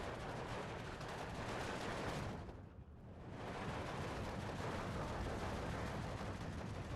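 Sniper and battle gunfire in the WWII strategy game Steel Division 2, a dense, continuous crackle of shots and rumbling fire with a brief lull in the middle before the din resumes.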